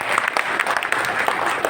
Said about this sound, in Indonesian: kita beri tepuk tangan aplaus sekali lagi.